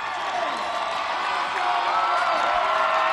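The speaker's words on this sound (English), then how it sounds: "Oh, huge cheer." Spectators along the Kansas City Royals victory parade route cheer and whoop in a continuous roar that swells slightly louder toward the end, with individual shouts poking through the mass of voices.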